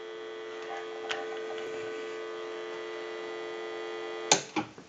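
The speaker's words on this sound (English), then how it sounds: "turn on the amplifier for a second and give you some dial tone" A steady telephone dial tone from an Automatic Electric three-slot payphone hums continuously, with a couple of sharp clicks near the end.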